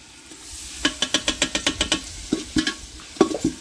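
Ground garlic paste frying in a pan for coconut milk rice, a soft sizzle under a quick run of about ten rhythmic spatula scrapes and taps, then a few more strokes, nearby.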